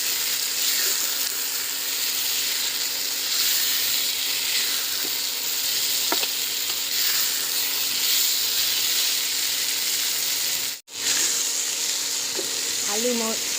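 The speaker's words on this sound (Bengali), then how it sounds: "এই পেঁপে আর আলুটাকে ভালো করে ভেজে নেব।" Papaya and potato pieces fry in a pan for a Bengali papaya-potato dish, giving a steady, close sizzle that runs unbroken throughout, with a brief dropout near the end and faint stirring sounds.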